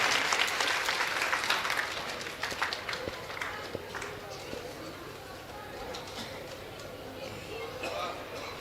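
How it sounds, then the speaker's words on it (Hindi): Audience applause at a staged Lakshman–Parshuram dialogue performance, a dense burst of clapping that is loudest at the start and then thins and fades over several seconds. "एक बार जोरदार तालियां।"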